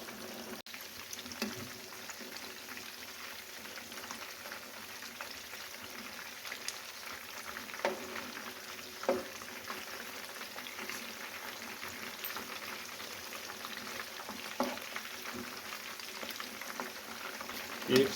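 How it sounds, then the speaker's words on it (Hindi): Fish fries in bubbling oil with a continuous soft crackling sizzle and a few scattered pops, steady and fairly quiet throughout. "अब इसको तकरीबन 10 मिनट लगेंगे फ्राई होने में।"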